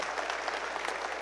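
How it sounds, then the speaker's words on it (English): A church congregation applauds during a 75th anniversary celebration service. The clapping is brief, dense and somewhat distant, a soft even patter with no voices over it. "Yeah, you can clap."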